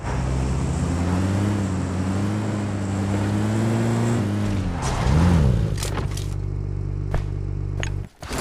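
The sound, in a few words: car driving in a video game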